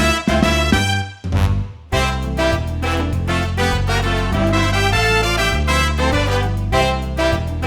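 Lively big band music from a sample library, with punchy brass and rhythmic accompaniment including clavinet, with a brief dropout partway through before the full ensemble continues.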